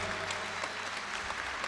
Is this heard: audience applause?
yes